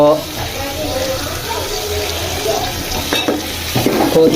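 Chicken sizzles in a pan while being stirred, with scraping and clatter over a steady frying hiss and some running-water sounds, fairly loud and close.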